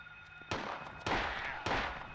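Three sharp gunshot blasts from Silent Hill on PS1, spaced about half a second apart, each a loud broadband crack with a lingering tail, over a faint steady background hum.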